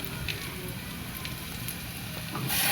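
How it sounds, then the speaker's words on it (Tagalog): Papaya sautéing in a pan gives a steady, soft sizzle throughout, rising slightly in loudness at the very end. "Igisa natin ang ating papaya."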